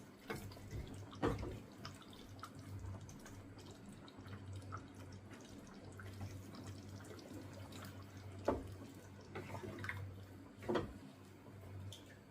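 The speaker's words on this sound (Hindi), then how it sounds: "ग्रेवी के लिए थोड़ा सा गर्म पानी ऐड करके इसको थोड़ी देर मैं कुक करूंगी।" Hot water poured into a simmering chicken curry to make gravy, a quiet pouring and dripping trickle with a few soft splashes and clinks over low background hum, no talking.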